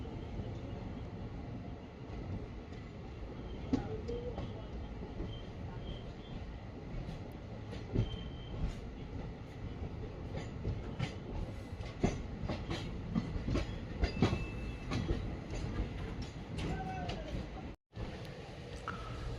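A train rolls along the rails with a continuous rumble, rattling wagons and scattered clanks, heard from inside the moving carriage as it leaves Nanjangud Town station on the Chamarajanagar to Mysore line.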